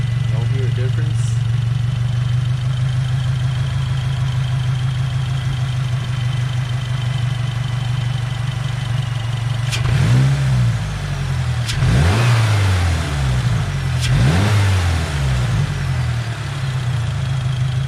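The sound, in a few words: 2022 Subaru WRX engine cold start and revving, K&N filter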